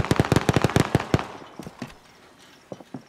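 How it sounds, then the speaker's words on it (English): Call of Duty: Modern Warfare gunfire rings out as a rapid string of sharp, loud shots in quick succession, then tapers into a few scattered, fainter distant pops. "They're literally shooting each other out of the air."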